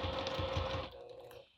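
A sewing machine stitches a 3/8-inch seam on a vinyl wristlet, running in a steady, close, continuous whir for nearly a second before slowing and trailing off.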